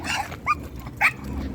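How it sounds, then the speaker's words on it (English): Dog barking on a walk outdoors, two short sharp barks about half a second apart, moderately near, over light outdoor background noise. "This is another dog."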